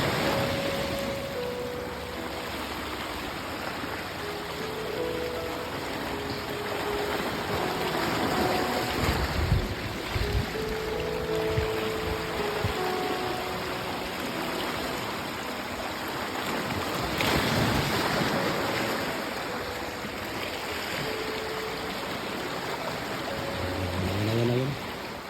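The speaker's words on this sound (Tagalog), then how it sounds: "Medyo malakas ang alon." Strong sea waves near shore where fish are being caught, a continuous broadband wash of surf and wind roaring steadily throughout, with faint tonal hum and occasional louder surges as waves break.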